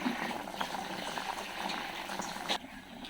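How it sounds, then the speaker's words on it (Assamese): Elephant apple curry bubbles at a steady simmer in a cooking pot, with a continuous close boiling burble and a light clunk near the end. "ঔটেঙাই দাইলে এইখিনি উতলি আছে চাওকচোন ইমান ধুনীয়াকৈ উতলি আছে"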